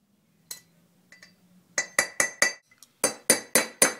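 Sharp metallic clinks ring out as a bearing seat is tapped out of a 1969 Mustang front rotor. A few scattered taps give way to a steady run of evenly spaced hammer strikes, close and loud, with no talking.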